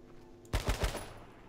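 A quick burst of three gunshots fires in the video game H1Z1, fairly faint and brief against a low background hum.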